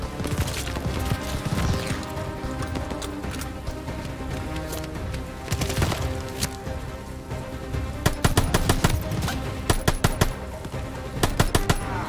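Dense, rapid automatic gunfire from the Call of Duty: Vanguard video game crackles continuously over a busy game soundscape, with heavier bursts of shots toward the end.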